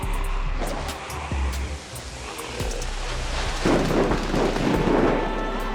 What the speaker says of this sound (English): I'm going to use a firecracker to make a loud boom